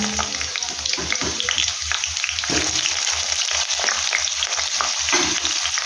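Potatoes fry in hot oil with chopped onion, garlic and bay leaf for a pea and potato dum. A loud, steady close sizzle runs under rhythmic stirring scrapes, with no voices.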